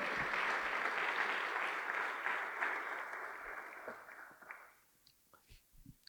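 A church congregation claps loudly together in a steady wash of applause that fades out toward the end, leaving a few scattered sounds.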